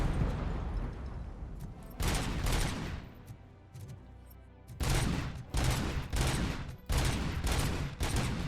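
Gunfire from RoboCop: Rogue City, a video game, with repeated bursts of shooting at boxes: loud volleys of shots in clusters with short gaps between them and no talk.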